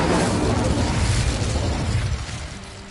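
An Incendio fire spell in Hogwarts Legacy bursts into a loud, roaring whoosh of flame. It stays dense and full at the start, then gradually fades and thins over a few seconds.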